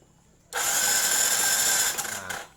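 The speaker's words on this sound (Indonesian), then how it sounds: "ini kita coba starter" Yamaha Mio scooter with its ignition coil removed, starter motor cranking the engine in one steady whirring burst of about a second and a half, close and loud, then cutting off into a short mechanical rattle.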